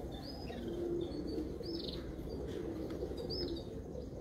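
Pigeons on a Sharjah rooftop give a steady, soft cooing murmur, broken by a few brighter chirps and calls that rise above it. The birds sound fairly close and no one speaks.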